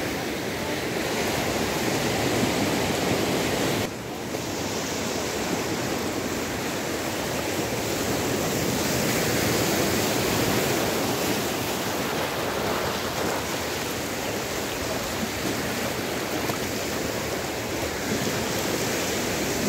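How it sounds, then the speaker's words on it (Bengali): High-tide sea waves on Bansbaria beach at Sitakunda, Chattogram, give a constant broad roar of surf with wind buffeting the microphone, steady and loud throughout with no voices. "বাঁশবাড়িয়া সীতাকুণ্ড চট্টগ্রাম বিচে জোয়ারের সময় অনেক জোয়ার, জোয়ার না থাকলে পানি আরও দূরে থাকে।"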